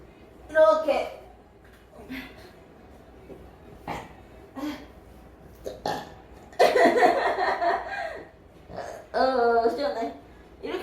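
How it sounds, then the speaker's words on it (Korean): A woman burps loudly several times, long throaty belches rising out of her talk, while she rolls a yoga ring across her belly to press on the abdomen and ease constipation. "트림이 진짜 나와."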